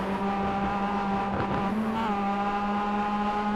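Race cars at Daytona in the iRacing video game, a steady engine drone with a pitch shift partway through as cars run close together, loud and continuous.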